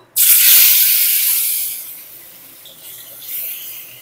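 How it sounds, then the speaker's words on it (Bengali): Pointed gourd pieces drop into hot mustard oil in a kadai and erupt in a loud, sudden hiss that stays strong for about a second, then eases into a steadier, softer sizzle with a slight swell near the end. "এই তেলের মধ্যে আমি পটলগুলো ভেজে নেব।"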